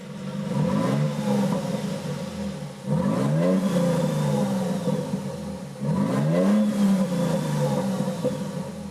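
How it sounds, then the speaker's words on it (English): A 2023 Toyota Sequoia TRD Pro hybrid SUV engine revs three times in rising, growling bursts through the exhaust, each surge climbing in pitch before dropping back to idle. "The exhaust gets some extra growl."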